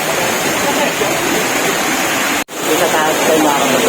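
Hulugan Falls pours in a loud, steady roar close by, a dense wash of falling water with a brief dropout near the end, and speech faintly mixed in.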